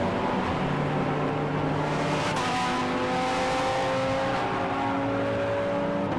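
Ferrari race car at a BARC circuit race, engine note rising and shifting in pitch with gear changes, loud and steady throughout under a dense wash of track noise.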